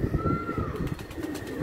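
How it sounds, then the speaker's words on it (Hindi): Pigeons in a cage coo softly, a few low throaty calls close by, with faint background noise. "कबूतर सारे बाहर मादियाँ आ गई"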